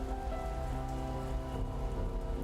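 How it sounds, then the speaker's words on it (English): Rain falling in the video game One Eleven, a dense, steady patter of drops on surfaces, continuous and fairly loud with no talk. "It's the only place to shelter from the rain."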